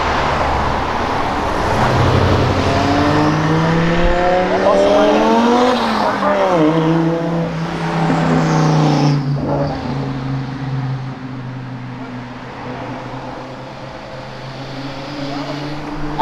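A loud, noisy black car engine roars and rises in pitch as it speeds past close by, then the revving fades into steady road noise.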